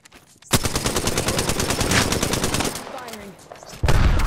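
Rapid automatic gunfire in Apex Legends, a dense, loud burst of fast repeated shots lasting about two seconds, then quieter shooting and a fresh heavy burst at the end.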